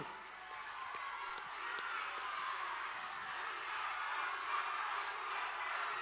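Faint, steady applause from an audience at a regional public election debate, a dense wash of clapping that continues without a break throughout.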